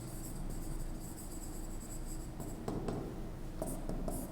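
Chalk or marker scratching on a board during a lesson on analog computers, soft, steady rubbing strokes over a faint background hum, with a few sharper taps near the end and no talk.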